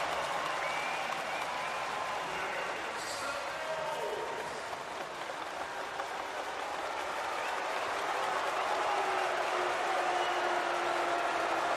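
A home crowd at a Japanese B.League basketball game between Saga Ballooners and Ryukyu Golden Kings makes a sustained roar and clapping during a free throw, a broad, steady wash of noise that swells slightly near the end.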